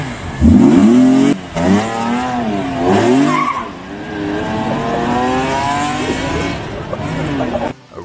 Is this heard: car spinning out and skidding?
yes